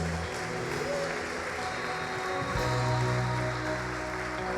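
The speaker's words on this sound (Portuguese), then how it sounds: "Dá uma salva de palmas a Jesus" A church congregation applauds during a sermon, a sustained wash of clapping that swells slightly partway through, with faint tonal background sound and some voices mixed in.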